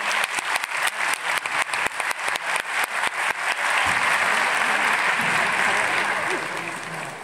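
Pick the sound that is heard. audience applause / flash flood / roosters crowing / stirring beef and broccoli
audience applause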